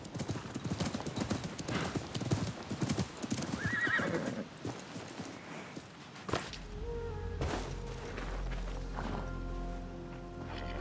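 A horse in the Assassin's Creed Mirage video game gallops with rapid hoofbeats and lets out a loud whinny, followed by a sharp impact and then a sustained low rumbling tone with music.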